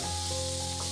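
Pork mince stir-frying in hot oil with chopped scallions and shiitake mushrooms, giving a dense, constant close sizzle that stays even and unbroken through one brief second.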